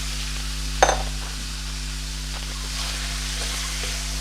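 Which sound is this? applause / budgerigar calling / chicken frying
chicken frying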